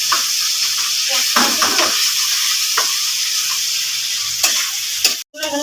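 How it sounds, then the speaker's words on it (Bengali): Potatoes fry in oil in a pan, giving a loud, continuous sizzle with bursts of crackling and stirring scrapes close by, ending in a short cutoff. "তেল আলু ভাজা হয়ে গেছে"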